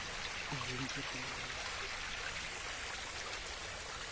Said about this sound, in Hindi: इसी के साथ साथ पानी का बहाव भी जो है वो आप देख सकते हैं